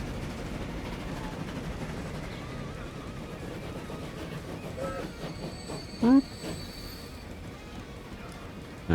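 A train runs in the video game Transport Fever 2, a soft steady rumble with faint clickety-clack of wheels and a brief whistle-like squeak, under quiet background.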